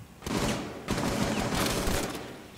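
Gunfire in Rainbow Six Siege on the Favela map: two dense bursts of rapid shots ring out close and loud, one after another, with no talking.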